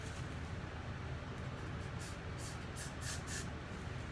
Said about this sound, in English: I'm gonna shake them first. And then I'll go in with my spray.